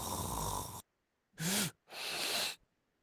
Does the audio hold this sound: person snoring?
yes